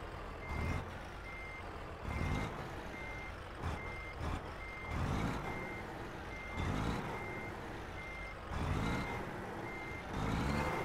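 Repeated reversing beeps from a truck backing into a trailer in American Truck Simulator, an evenly spaced series of beeps over a low engine rumble, with periodic louder bursts of engine and air sound.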